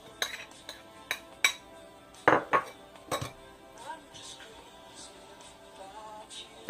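Minced garlic goes from a bowl into a pot of braised chicken with aged kimchi (묵은지 닭도리탕): a handful of sharp, close clinks and taps of utensil on cookware, then softer scraping and rustling as it settles, with no talking.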